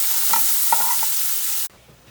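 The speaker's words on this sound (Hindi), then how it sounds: "ये जो तड़का हमारा रेडी हुआ है ये मैं अब आलूओं पे डाल दूंगी" Garlic and coriander tadka hisses loudly as it is poured over roasted potatoes, a dense steady sizzle with a few stirring clinks. The sound cuts off abruptly near the end, leaving a faint quiet tail.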